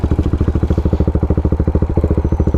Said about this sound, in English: this is the largest thumper bike I've ever ridden